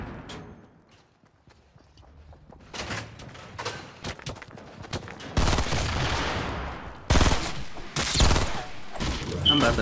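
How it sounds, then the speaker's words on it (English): Assault rifle fire in the Fortnite battle royale game starts as scattered shots and builds into dense, loud volleys over the second half. "Someone has a gun already. He has an assault rifle."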